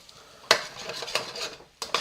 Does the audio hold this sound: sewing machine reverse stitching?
no